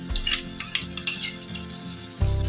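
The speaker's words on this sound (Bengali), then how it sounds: "দেখুন আমি এবারে দিয়ে দিচ্ছি টমেটো সস।" Prawn Manchurian fries and sizzles in a pan as it is stirred, with repeated clinks of a spoon against the pan, then a louder splash as tomato sauce goes in near the end, with no talk.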